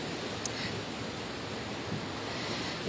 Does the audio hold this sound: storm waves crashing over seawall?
yes